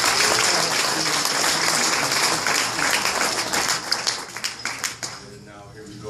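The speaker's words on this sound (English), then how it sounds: "so still want to give them a round of applause." Applause fills a football team banquet, a dense crowd clapping that runs strong for about four seconds, then thins into a few scattered claps as it fades out.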